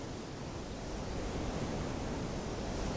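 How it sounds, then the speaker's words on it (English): Biting wind blows off the Bering Sea along the Nome coast road near Safety Sound, a steady broadband roar buffeting the microphone with surf-like rushing and no voices. "A biting wind off the Bering Sea meant there was none of the balmy weather we'd had in Anchorage."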